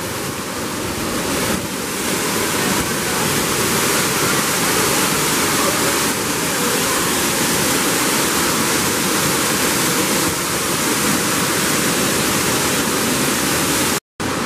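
Water pours through a rock cave at Donut Falls on a Big Cottonwood trail, a steady, loud, close roar of rushing water that continues unbroken and then cuts out abruptly just before the end.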